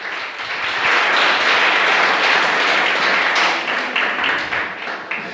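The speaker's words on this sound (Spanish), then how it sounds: "Dele fuerte aplauso al Señor." A church congregation gives a loud round of applause during a sermon, a dense, full burst of many hands clapping that swells quickly, holds strong, then begins to thin toward the end.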